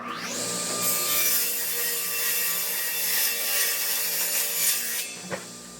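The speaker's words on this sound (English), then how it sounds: "cutting these mitered corners for the tabletops" A saw cuts mitered corners on strips of wood edge banding for plywood tabletops, a steady, loud rasping cut running nearly six seconds before stopping abruptly near the end.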